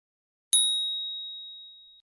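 A single clean notification bell ding rings out alone in silence, a bright metallic strike that decays slowly over about a second and a half.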